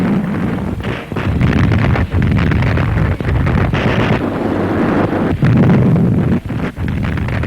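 Heavy, continuous rumbling of cannon fire with repeated deep booms blending into a dense roar, wind noise buffeting the microphone.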